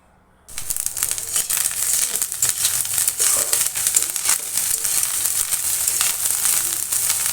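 Fish roe hitting a hot pan with turmeric and spice, bursting into a loud, steady sizzle and crackle of frying that holds throughout after a brief quiet start.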